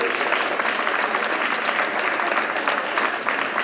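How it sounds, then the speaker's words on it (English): Audience at a school prize-giving claps steadily for Year 4 pupils, dense continuous applause throughout, near and loud with no talk over it. "let's give them an extra clap because that's their last time with Milepost"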